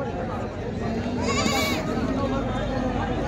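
Goats bleat at the Neknur goat and sheep market, one wavering call rising clearly over steady crowd chatter and nearby voices.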